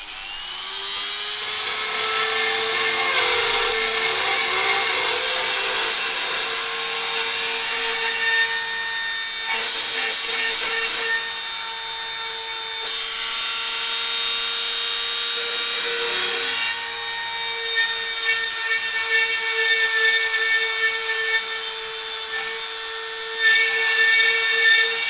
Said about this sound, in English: I'll show you what happens when I drill